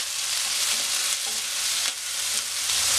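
Ginger and sliced green chillies fry in hot oil with mustard seeds, a loud, steady hiss of sizzling close up with small surges and no talking.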